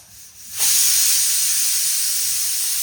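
A pressure cooker releases steam in a sudden loud, steady hiss that starts abruptly after a brief quiet moment and holds strong to the end, close by.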